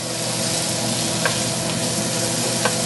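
Onions and portabella mushrooms fry and caramelize in a pan, giving a steady, dense sizzle that holds at an even loudness for the whole stretch, with a couple of faint clicks and no voices.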